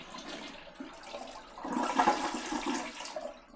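A toilet flushes by its lever after a Fluidmaster repair kit is fitted: a short whoosh of rushing water that swells after about a second and a half, then gurgles and drains, close and fairly loud.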